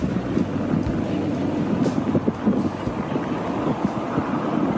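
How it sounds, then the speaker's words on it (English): Strong wind blowing at an airfield, a steady low rushing roar with gusty buffeting against the microphone, close and continuous throughout. "Wind is raging down here this morning already."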